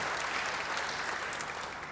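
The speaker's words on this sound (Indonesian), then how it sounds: "Beri tepuk tangan yang baik bagi dia." A church congregation claps during a sermon, a brief, even wash of many hands applauding, fairly faint and steady throughout.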